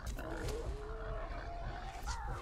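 A pig squealing as it is killed by arrows in the video game The Bard's Tale, a drawn-out strained cry with grunting over a low rumbling game ambience, steady and fairly close.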